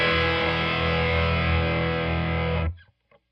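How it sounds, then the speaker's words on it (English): An electric guitar chord rings out with a gritty, mildly overdriven tone, sustaining loudly before being cut off abruptly, followed by a brief faint pluck. "Here's my mild overdrive."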